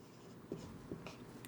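A pen writes an entry in an accounting ledger, making a few faint, brief scratching strokes against quiet room noise.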